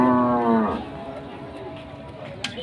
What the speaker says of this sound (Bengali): মহিষের মতন গরু দেখছেন